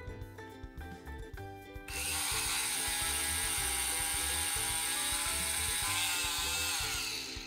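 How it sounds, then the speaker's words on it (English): A Play-Doh toy dentist drill whirs while drilling a hole, a close mechanical ratcheting buzz that starts after a few light clicks and runs continuously to the end. "Drill a hole."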